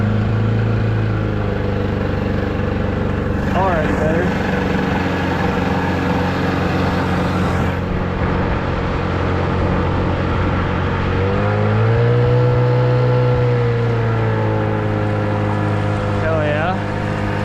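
A 1989 15hp Gamefisher outboard motor idles steadily up close, then revs up and settles back down partway through, while someone speaks briefly over the engine.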